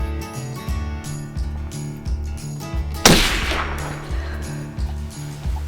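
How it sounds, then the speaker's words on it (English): A single loud rifle shot fired at a deer about 130 yards away during a Texas hunt, a sharp crack followed by a brief decaying tail over steady low background hum. "The shot was about 130 yards, and she was very nervous before she shot."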